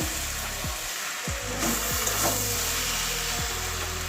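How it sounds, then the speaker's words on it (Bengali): Cabbage curry with garam masala being stirred in a pan, giving a steady sizzle with repeated scraping strokes of the spoon, close and moderately loud, with no talking. "গরম মশলা দিয়ে দিচ্ছি হাফ চামচ মতো এবার আবারও ভালো করে মিশিয়ে দেবো সবগুলো"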